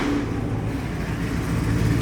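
A 1,000-horsepower Camaro with a built motor and Whipple supercharger rolls out, giving a steady, low, moderately loud engine rumble heard alone without talk.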